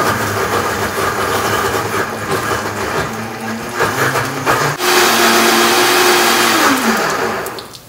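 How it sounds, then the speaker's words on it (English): A Vitamix blender runs loud and close, churning chunks for a steady grinding whir that shifts pitch as it speeds up, then winds down at the end. "But now we're gonna use this Vitamix."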